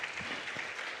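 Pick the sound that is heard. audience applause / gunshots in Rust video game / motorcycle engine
audience applause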